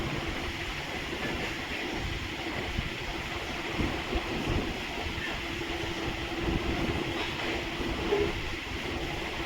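A sewing machine stitches the waistband onto a lehenga in a continuous whirring, rattling run at close range, holding an even level throughout with no speech.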